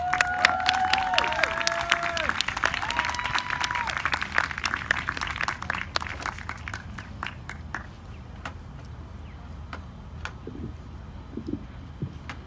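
Crowd applause with scattered cheers at an outdoor science march rally, loud and sustained for several seconds before thinning into a few lingering claps.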